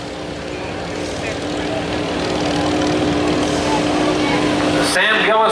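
A modified lawn tractor engine at a tractor pull drones loud and steady, building in volume as it pulls, with an announcer talking over it and a sharp change near the end.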